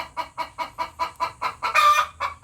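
Chickens cluck in a quick, steady rhythm of short bursts, close by, with one louder, brighter call breaking in near the end.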